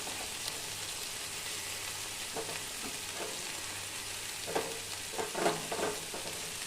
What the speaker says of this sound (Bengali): পেঁয়াজ কুচিগুলো আমি দিয়ে দিচ্ছি।